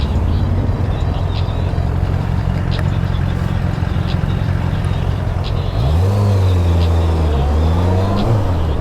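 A car on the road between Paris and Annecy, with a loud, steady engine drone and road rumble throughout and the engine note rising and shifting in the last few seconds as it accelerates.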